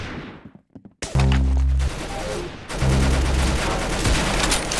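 Rapid automatic gunfire in the Roblox game Arsenal, loud close bursts with a short sharp volley followed by sustained streams of shots, no talking.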